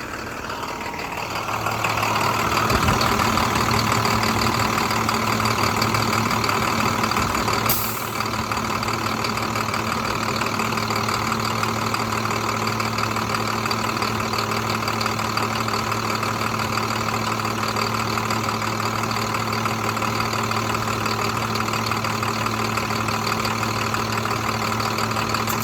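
A box truck engine idles steadily while cold, a low constant hum with a faint knock running unchanged from start to end, loud and close with no talking.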